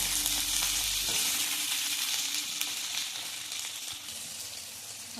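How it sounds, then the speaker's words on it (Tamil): Green chillies frying in oil for pickle, a loud even crackling sizzle close to the pan, with a brief low knock near the start and light stirring sounds throughout, no speech. "இது லைட்டாக கொஞ்சம் நேரம் ஒரு 2 to 3 மினிட்ஸ் நல்லா ஃப்ரை பண்ணணும் எண்ணெயிலேயே"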